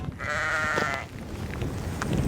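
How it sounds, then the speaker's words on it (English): Sheep bleat near a remote, isolated football pitch, one drawn-out nearby bleat carrying clearly for about a second before fading into soft open-air background with faint further calls. "the only thing I've seen for miles are these sheep"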